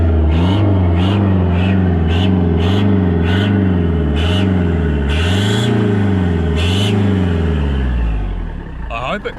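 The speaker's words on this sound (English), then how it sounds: "I've just been driving up and down the same stretch of road, trying to blow all the oil out of the exhaust" A car with a blown turbo drives along a road, its engine droning loudly and steadily with rhythmic swells in pitch as it blows oil out of the exhaust, then quiets toward the end.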